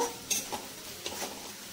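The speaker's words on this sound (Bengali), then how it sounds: "এটাকে ভালো করে কষিয়ে নেব।" Chicken with turmeric is stir-fried for a restaurant-style chicken do pyaza, with a soft steady sizzle under scattered scrapes and clinks of a utensil against the pan, fairly quiet and close.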